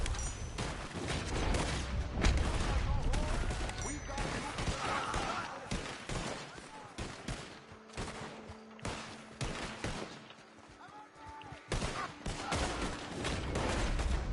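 Rapid gunfire in the western online game Red Dead Online crackles in dense, irregular bursts throughout, some shots sharp and near, others more distant, with voices talking over part of the action.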